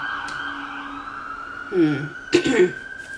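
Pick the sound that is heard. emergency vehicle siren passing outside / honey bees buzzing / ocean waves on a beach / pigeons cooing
emergency vehicle siren passing outside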